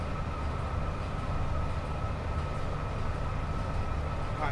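Electric train in Train Sim World 6 on the West Coast Main Line between Crewe and Preston, near Warrington: a steady, loud rumbling cab drone with a constant hum, running continuously without talk.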